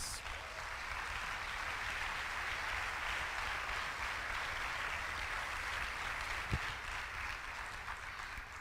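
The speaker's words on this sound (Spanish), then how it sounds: "Dale un aplauso al Rey de Reyes" A congregation claps during a Spanish-language church sermon, a sustained even wash of applause from a crowd, with a single sharp knock partway through.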